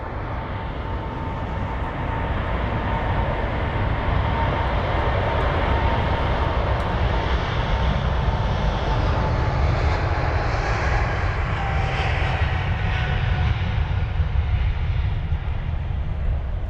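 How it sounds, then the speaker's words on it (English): An Air Canada Boeing 777-300 departs Heathrow with a loud, sustained jet engine roar that holds steady for the whole stretch, broad and powerful with a faint whining tone above it, no voices. "Canada 777-300 off to Vancouver"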